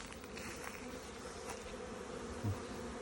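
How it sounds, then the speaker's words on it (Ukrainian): Honey bees fly weakly around a hive entrance in January, a soft continuous buzzing drone with faint fluctuations, fairly quiet and with no voices. "Слабенько літають бджілки."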